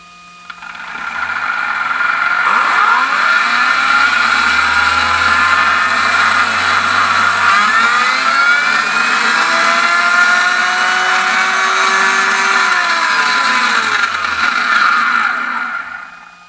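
R1 V21 electric RC car motor running a programmed throttle test, a loud close whine that spools up, holds a high steady pitch with sweeping rises and falls for about fifteen seconds, then winds down, with no talking.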